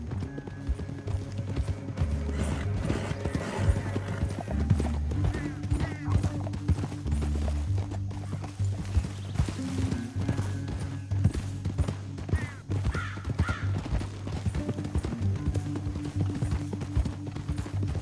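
Rapid galloping hoofbeats thunder continuously over a low rumbling music bed, a horse running hard and close throughout, with occasional faint whinnies, in the video game Red Dead Redemption 2.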